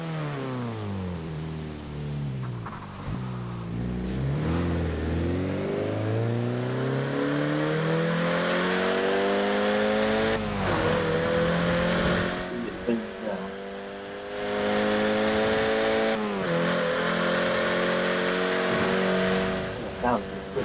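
A four-cylinder car engine in Forza Horizon 4 revs and climbs through several gears, pitch rising then dropping at each shift, with brief pauses between bursts.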